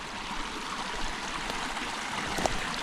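A stream flowing through the bush makes a continuous, even rushing and trickling sound nearby, with no voices.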